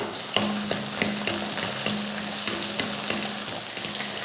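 Steady sizzling of a chopped large onion and curry leaves frying in a hot pan, with repeated stirring scrapes at a regular pace; close and fairly loud, no talking.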